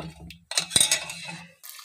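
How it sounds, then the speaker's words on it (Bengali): Sweet potato sweets dropped into sugar syrup in a pan, giving a brief clatter and soft liquid splash in the middle of a short, quiet kitchen moment. "এবার এই রসের মধ্যে মিষ্টিগুলো দিয়ে দেবো।"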